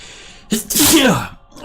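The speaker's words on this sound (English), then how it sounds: "Oh, I need to sneeze." A single loud, close sneeze with a quick intake of breath before it, then a brief pause.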